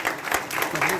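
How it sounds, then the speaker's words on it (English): An audience at a police-organized job fair in a school claps in a brief burst of applause, scattered hand claps mixed with a voice speaking over them. "Big round of applause, guys."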